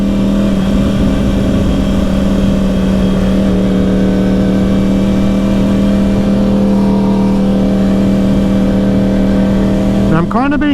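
A 2010 Yamaha R1 sport motorcycle being ridden, its engine holding a loud, steady drone throughout, with a brief shift in pitch near the end.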